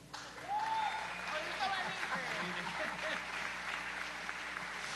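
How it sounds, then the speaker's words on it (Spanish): Concert audience applauding at a show, steady crowd clapping heard from some distance, fairly faint, with a voice briefly rising over it near the start. "Así que un aplauso para Jorge."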